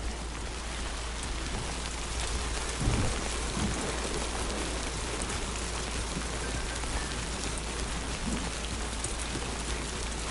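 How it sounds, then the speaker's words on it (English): Heavy rain pours down steadily in Death Stranding 2, a dense, constant hiss of drops on surfaces with a couple of low, muffled rumbles early on. "Heavy rain sometimes causes the rivers over here to rise."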